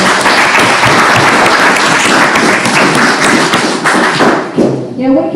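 Loud, close round of applause from members at a monthly woodturners club meeting, a dense burst of clapping with a few thumps, tapering off as a voice comes in at the end.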